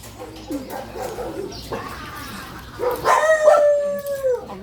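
A dog lets out a rising, wavering howl that swells loudly near the end, following quieter whines and rustling.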